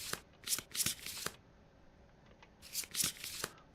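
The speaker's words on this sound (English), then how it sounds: "Let's give these a shuffle." A deck of cards for the Kingdom Death board game being shuffled close by: two separate bursts of crisp, papery riffling, the second following after a short quiet gap.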